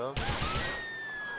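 A quick burst of gunshots in the Grand Theft Auto IV video game cracks out up close, a few rapid reports followed by a ringing tail.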